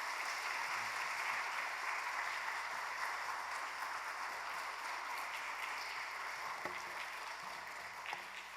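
Steady applause from a church congregation at a Wednesday evening service welcoming a guest lecturer, a dense even clatter of many hands held at a constant level throughout, with a few brief murmurs near the end.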